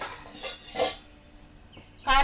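A metal spoon clinks and scrapes against a cooking pan as chili powder goes into a Telugu vankaya (stuffed brinjal) curry, several bright clinks close by, a short pause, then another burst.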